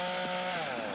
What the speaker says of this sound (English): The trees are down, the chainsaws are out.